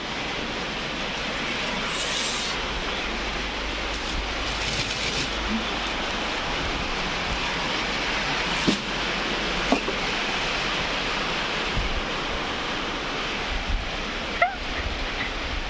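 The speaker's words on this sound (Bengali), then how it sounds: "দেখেন বৃষ্টি নামতেছে মাশাল্লাহ" Rain falling steadily as a continuous, even rushing hiss, with a few faint knocks and taps scattered through it and no clear talking.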